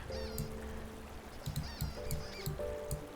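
Cartoonish duck honks and quacks from the Babbling Brook video game, a few short calls scattered over a soft watery background, with no voices.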